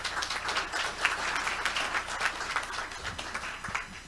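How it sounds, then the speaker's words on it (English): A small audience claps for a startup pitch at a local business showcase, a steady, moderately loud patter of many hands lasting a few seconds, slightly thinning toward the end. "Let's give these folks a round of applause."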